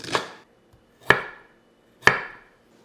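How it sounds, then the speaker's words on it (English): Three sharp, evenly spaced knife chops on a cutting board, about one per second, as vegetables are cut small for a crock pot roast; close and alone, with no talk. "That's why I'm chopping them really small."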